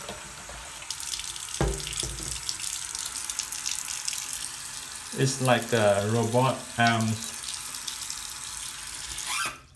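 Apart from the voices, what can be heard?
water running from kitchen faucet with swivel aerator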